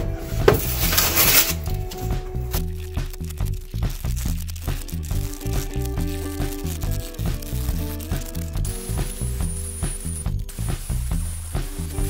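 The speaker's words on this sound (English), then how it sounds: "now let's try to get this ugly coating off" Old coating is scraped and rubbed off a wooden microscope case in steady, repeated strokes, heard close over continuous background music.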